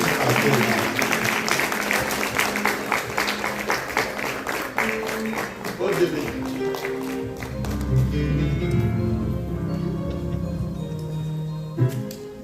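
A church congregation claps in quick rhythmic unison for several seconds, then the clapping thins out. A voice and sustained musical tones take over, with a last few scattered claps near the end.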